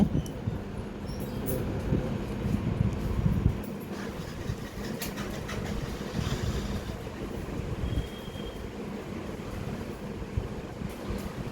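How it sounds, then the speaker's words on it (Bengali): Water washes steadily against a boat on a river trip at dusk, a continuous low rushing wash mixed with wind buffeting on the microphone, no voices heard. "পানির শব্দ"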